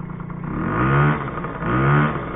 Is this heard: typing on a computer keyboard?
no